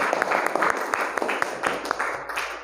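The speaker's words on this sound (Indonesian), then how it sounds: "Oke, beri tepuk tangan untuk kalian semua." Students in a classroom clap for the groups, a moderate, fairly quiet patter of applause with distinct individual claps, lasting a few seconds.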